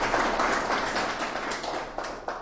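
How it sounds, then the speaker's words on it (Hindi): A church congregation at a Sunday evening prayer service gives a hearty round of applause, dense continuous clapping from many people, fairly close and loud throughout. "आप सभी के लिए जोरदार तालियां हो"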